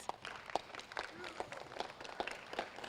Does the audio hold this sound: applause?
yes